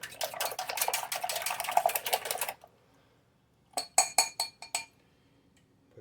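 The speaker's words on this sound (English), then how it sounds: "I don't have to whisk this, but I'm going to. Love these little spring whisk" A spring pogo whisk rattles and clinks quickly against a bowl, whisking sourdough pancake batter. A steady burst runs for a couple of seconds, then after a short silence come several sharp, separate taps, quiet and close.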